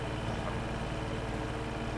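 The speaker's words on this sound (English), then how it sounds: "The mower is noisy, the tractor is noisy at this RPM." A tractor engine runs steadily at high RPM with a mower attached, a dense, loud and constant drone with no pauses.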